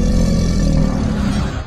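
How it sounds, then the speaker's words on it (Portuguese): A deep, continuous animal growl, steady and loud for under two seconds before easing slightly at the end, used as an ominous werewolf-style sound effect with no voices. "Rosnados."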